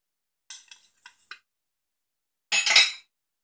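A spoon stirs acı ezme, a chopped salad with parsley, tomato paste and salt, in a bowl: a short run of light metallic clinks, a pause, then a second denser burst of scraping clinks, close and clear.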